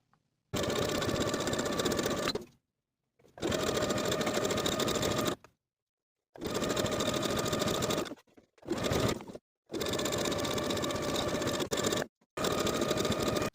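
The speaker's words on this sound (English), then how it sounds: "Then we can sew that hemband in place all the way around" A sewing machine stitches a sweatshirt hemband in loud, steady mechanical bursts of a few seconds each, separated by short silent pauses, six runs in all.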